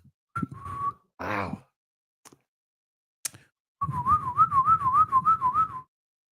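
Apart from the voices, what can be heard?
whistling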